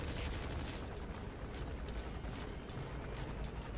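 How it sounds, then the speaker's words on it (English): Distant gunfire in the stealth game Metal Gear Solid V, heard as a dense, continuous crackling rumble of rapid shots blurred together by distance, with no talking. "We're hearing gunfire."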